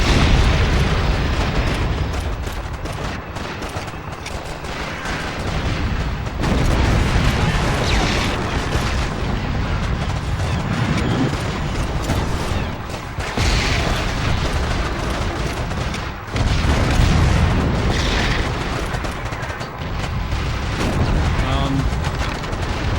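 Dense World War II battle sounds from Call of Duty 2 rumble continuously, with heavy booms, explosions and bursts of gunfire layered into a loud, sustained wash of combat noise.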